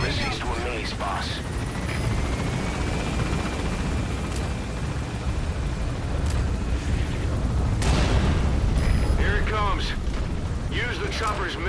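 A helicopter in the Metal Gear Solid V video game churns as a dense, loud rotor rumble amid gunfire and explosions, with voices talking over the noise.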